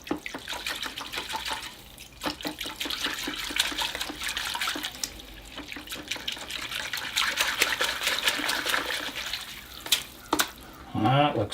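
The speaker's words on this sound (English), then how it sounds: "I've got a bucket of water here, so now I'll swish my roots around in it, getting them nice and clean." Bonsai trident maple roots are swished around in a bucket of water, making repeated splashing and sloshing bursts that swell and ebb for several seconds, with a louder churn near the end.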